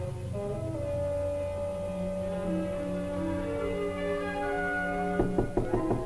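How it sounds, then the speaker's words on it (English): Several sharp knocks on a door land close and fairly loud near the end, cutting across a sustained orchestral film score from a 1940 crime drama. "Why did you knock?"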